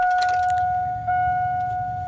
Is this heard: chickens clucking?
no